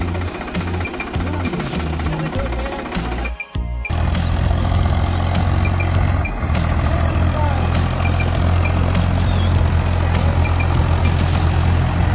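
A Swaraj 744 FE 4x4 tractor engine runs with a loud, steady diesel clatter and low throbbing rumble, briefly dipping near the start before continuing unbroken and close.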